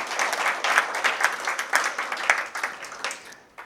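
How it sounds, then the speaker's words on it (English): Audience applause for workshop organizers at a gathering on Manipur and India-Japan partnership, a steady crowd of hands clapping together, moderately loud and sustained, then tapering off near the end. "May I request you to give them a big round of applause."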